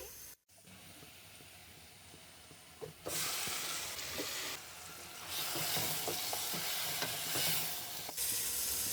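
Marinated chicken added to browned onions and frying in a pan: loud sizzling hiss that swells in bursts, with occasional scrapes and clinks of stirring, no talk.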